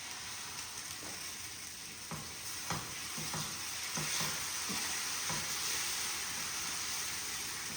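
Dosa batter cooks on a hot pan at home, giving a steady broad sizzle and hiss with a few soft scraping taps mixed in, close and continuous with no talking.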